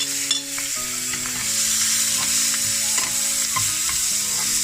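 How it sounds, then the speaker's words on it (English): Chopped vegetables stir-fry in a pan with a steady, loud, close sizzle, while a spatula scrapes and taps at intervals and a faint hum runs underneath. "So next is frying all these vegetables."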